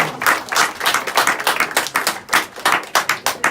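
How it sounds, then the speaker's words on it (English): Crowd applause at an outdoor real estate auction in Merewether after a house sells: a smaller group clapping, with distinct individual hand claps forming an uneven, lively patter. "Big round of applause, ladies and gentlemen."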